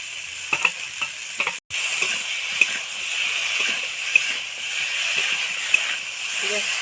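Cauliflower sautéing in a pan with ginger-cumin paste for a potato and koi fish curry, a steady close sizzle with scattered stirring scrapes and one brief dropout, no talk over it.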